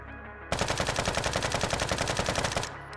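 Rapid automatic gunfire from a rifle aimed at a rock in the video game Deadside, a loud steady burst of evenly spaced shots lasting about two seconds after a brief quiet lead-in.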